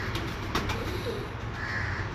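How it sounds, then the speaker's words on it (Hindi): A breeder pigeon coos softly, low and close, against a steady broadband background noise with a few short clicks. "शौक करें जनाब शाहिद खान साहब के 8 नंबर ब्रीडर कबूतर का"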